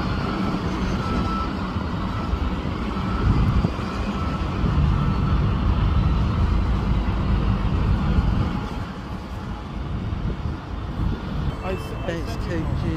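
An Alexander Dennis bus in Gloucester pulls away from a stop, its diesel engine rumbling steadily and swelling for several seconds before easing as it departs. Other traffic sounds fill the background, and someone speaks over it.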